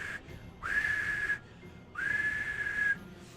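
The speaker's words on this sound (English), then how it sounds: "you can hear Raven Hawk blowing the whistle." A whistle is blown in two sustained, steady blasts of under a second each, separated by a short pause, clear and fairly close in a Hilda in SAGAS scouting episode.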